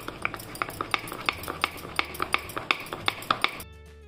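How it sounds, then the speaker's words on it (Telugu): A spoon clinks steadily against the sides of a mug while eggless vanilla cake batter is stirred in circles, giving a close, regular rhythm of light scraping taps that stops near the end. "కలిపినప్పుడు ఇలా రౌండ్ గానే కలపాలి"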